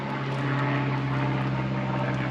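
A propeller airplane passes overhead outdoors with a loud, steady engine drone that holds an even tone throughout, and no one speaks.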